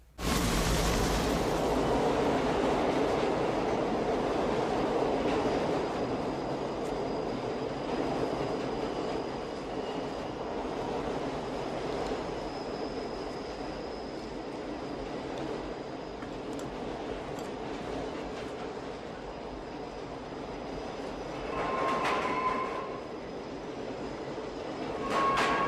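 A subway train runs with a loud, steady rumble of wheels and carriage noise for the whole stretch, with a few faint metallic squeals and clicks near the end.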